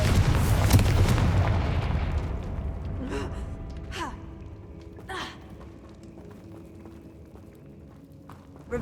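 The Confringo fire spell in Hogwarts Legacy blasts with a loud, rumbling burst that fades over several seconds, followed by a few fainter, sharp magical cracks.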